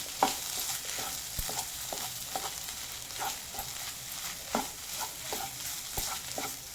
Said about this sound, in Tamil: சேர்கிற மாதிரி நல்லா கலந்து விட்டுக்கிறோம்.